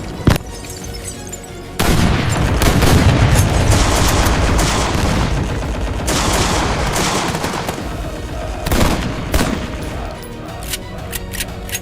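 Staged World War II battle for Manila in 1945 with toy soldiers, filled with loud rapid gunfire bursts and booming blasts that run nearly continuously, close and dense, with some shouting mixed into the din.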